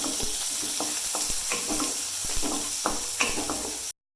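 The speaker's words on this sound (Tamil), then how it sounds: "அது வரைக்கும் கொஞ்சம் நல்லா ஒரு போல கிண்டி பொன்னிறமாக வரணும்." Steady sizzling of garlic frying in a pan until golden, with scattered scraping and stirring knocks throughout, close and fairly loud.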